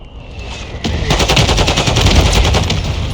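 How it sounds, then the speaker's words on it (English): Mortar strike explosions and rapid gunfire in the video game Warzone 2, a quieter opening followed by loud, dense bursts of automatic fire and impacts continuing steadily without speech. "Our mortar strike is inbound."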